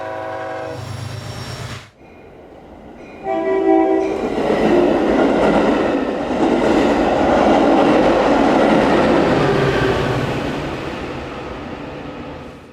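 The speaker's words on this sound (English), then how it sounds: "watching a simplified HO scale CPKC Train 251 depart" An HO scale ScaleTrains CPKC ES44AC model diesel locomotive sounds its horn, then rumbles steadily away with a sustained droning engine and clattering wheels, loud and close, no talking.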